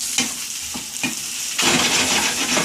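Onion, slit green chilies and garlic sauté in a pan, a close sizzle broken by several quick stirring scrapes before the frying hiss swells louder and steadier, with no voices.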